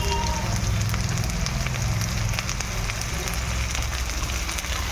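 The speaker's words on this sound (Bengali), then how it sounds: "এইগুলো দিয়ে আগে ভালো করে ভেজে নেবো" Chopped onion, ginger and green chilli fry in a hot wok with a dense, continuous sizzle and crackle, close and steady throughout, no voices.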